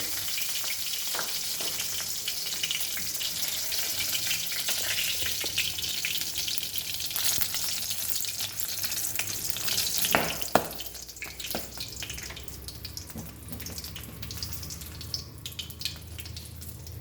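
Whole garlic and mixed vegetables sizzle and crackle in hot oil for Hakka noodles, a steady close frying hiss with a few stirring clatters midway.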